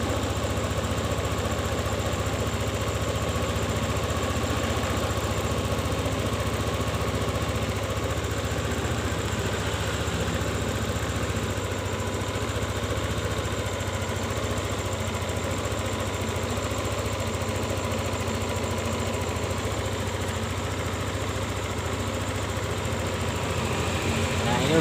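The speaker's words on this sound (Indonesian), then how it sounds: "kita bunyikan mesinnya" A Yamaha Lexi scooter engine idles high with a steady, continuous mechanical hum and buzz, close and unchanging throughout, the scooter having trouble settling to a stable idle.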